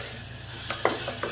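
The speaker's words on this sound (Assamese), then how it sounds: "এইখিনি এতিয়া ভালদৰে ভাজি লওঁ" Spices frying in a pan for Assamese fish head murighonto give a steady, close sizzle, with a few light scraping stirs of a spoon over it.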